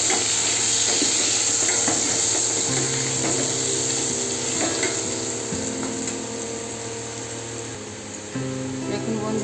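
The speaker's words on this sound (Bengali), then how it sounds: "আলুগুলোকে ভালো করে ওই তেলে ভেজে নেব।" Sliced potatoes fry in hot oil in a wok, giving a steady, fairly quiet sizzle that runs throughout with a low mechanical hum underneath.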